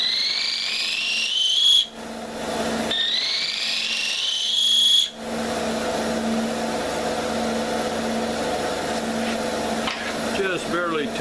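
A texturing tool chatters against a spinning wooden pull-string top on a lathe, after a rising whine of the spinning work, leaving a steady buzzing rasp close up.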